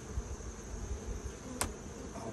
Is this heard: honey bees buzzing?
yes